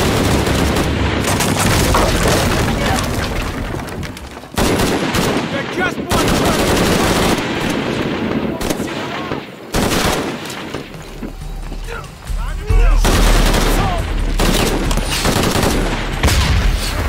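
Dense automatic gunfire and bursts of shots fill a firefight in the video game Shadow of the Tomb Raider, nearly continuous and loud with brief lulls and heavier booms.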